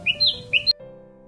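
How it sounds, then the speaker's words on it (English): A parrot gives several short, sharp squawks in quick succession, close and loud, then falls silent against a faint steady hum. "The sound of parrots."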